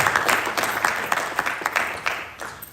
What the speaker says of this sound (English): I think you will give him rounds of applause for that.